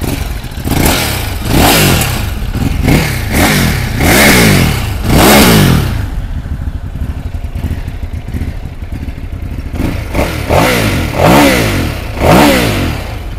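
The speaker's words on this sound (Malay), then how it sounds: "jom kita start tengok ini Ducati Hypermotard. Bunyi dia macam mana." A 2019 Ducati Hypermotard 939 motorcycle engine with a stock exhaust revs hard several times in quick succession, drops to a rough idle, then revs up again twice. It is loud and close, with no talking.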